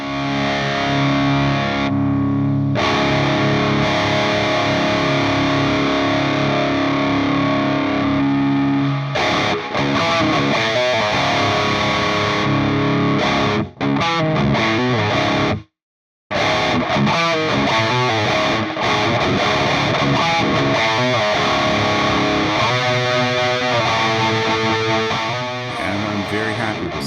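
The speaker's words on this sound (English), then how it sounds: "That's probably the quickest I've ever dialed in a high gain tone." Heavily distorted high-gain electric guitar through the Softube Amp Room software amp sim, playing chugging riffs and sustained chords, loud and dense, with a brief dropout of silence partway through.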